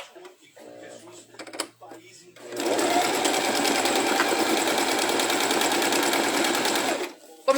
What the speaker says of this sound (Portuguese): vamos lá passar a costura